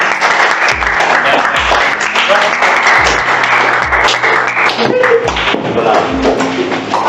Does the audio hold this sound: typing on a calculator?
no